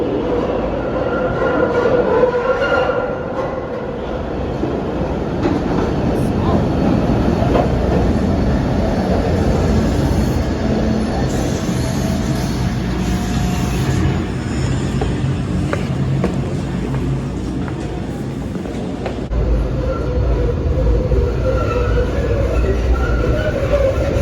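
A Market-Frankford Line subway train runs through a Philadelphia tunnel with a loud, continuous rumble and rattle, wheels clacking and faint squeals rising now and then.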